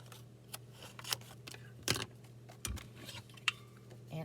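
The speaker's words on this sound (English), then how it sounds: "I do need to trim this just a tad so that it fits in my punch." Paper being trimmed with scissors at a crafting desk before punching, heard as a few sparse, quiet snips and rustles spread over several seconds.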